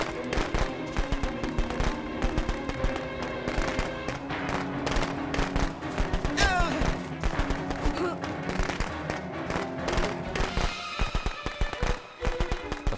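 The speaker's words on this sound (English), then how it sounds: "Firecrackers are almost over" Firecrackers going off in Friday the 13th: The Game, a dense, rapid string of sharp cracks and pops that continues throughout at moderate level.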